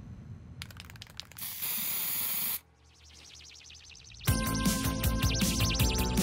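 Spray paint can hissing in the video game Captain Spirit, with a long sustained burst of spray noise between stretches of quieter game sounds and busier electronic effects.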